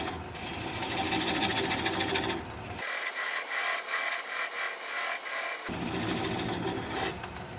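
Wood lathe turning a small sassafras bowl at a slow speed of around 400 RPM, giving a steady close scraping and rasping hum that drops its low rumble in the middle before returning, with no talk.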